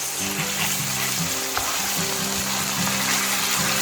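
Fish sauce and dark soy sauce are being stirred in a sizzling pan, a loud steady frying hiss with scraping strokes of the spatula running throughout.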